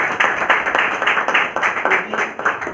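An audience at a function claps for Sardar Kuldeep Singh, a Blue Diamond executive, with a burst of applause and strong, rhythmic group clapping that fills the room, loud and close throughout.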